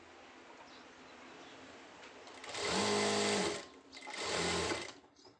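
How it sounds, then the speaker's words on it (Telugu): A sewing machine stitches fabric into cord ties (dori), running in two loud bursts of about a second each, with a short pause between them and quiet room noise before and after. "ఒక పాదం మందంతో కుట్టేసుకోవాలి."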